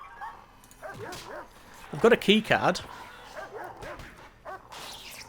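A guard dog barks and yips inside a prison in the Prison Architect game's jungle setting, with a burst of loud barks midway, while someone talks over most of it.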